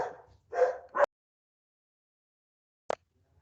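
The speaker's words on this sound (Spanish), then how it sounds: "Que se emocionaron acá los perros." Dogs barking indoors, a few sharp close barks in a quick cluster and then one more isolated bark after a pause of silence.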